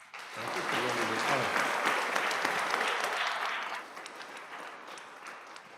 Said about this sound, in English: All right, I gotta clap for it.